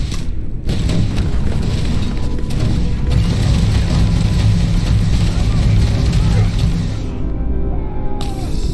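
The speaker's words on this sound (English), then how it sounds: "But here I am trying to throw a real one." A grenade thrown and exploding in the space video game Starfield, heard as a loud, sustained booming rumble with dense low-end roar and crashing debris that fades out near the end.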